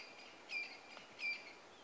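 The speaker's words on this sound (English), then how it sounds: "Now the birds all taking advantage of the termites being out." Birds at a termite mound on a sunrise safari in Sabi Sand give two short, faint, high chirps about half a second apart over a quiet bush background.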